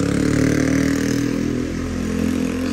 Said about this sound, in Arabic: خرب الفيديو هذا ابو الدراجة، خرب الفيديو صار دراجة مزعج